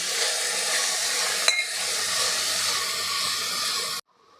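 Chopped onion and two finely cut medium tomatoes sizzle steadily in a pan for rajma masala, a loud continuous hiss with one brief clink of a spoon, cutting off abruptly near the end.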